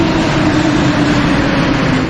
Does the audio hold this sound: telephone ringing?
no